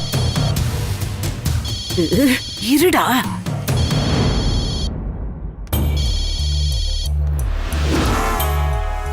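A telephone rings repeatedly in a Tamil TV serial scene, a bright electronic ring pattern recurring under loud dialogue and dramatic music, with a person speaking briefly.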